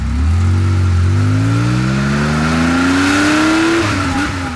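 An air-cooled 1982 Porsche 911 SC engine drives past loud and close, revving steadily upward in pitch over several seconds before easing off, with a faint tire hiss underneath.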